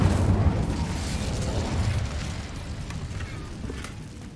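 An Incendio fire spell is cast in Hogwarts Legacy, a dense low whooshing burst of flame that rumbles loudly at first, then gradually fades over a few seconds with crackling texture.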